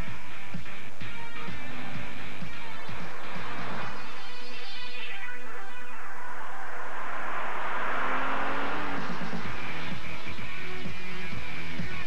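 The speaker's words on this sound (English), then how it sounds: "Pure performance. Powered by the Subaru WRX STI." A Subaru WRX STI's engine sweeps up and down in loud surges in a commercial, mixed with music and whooshing effects.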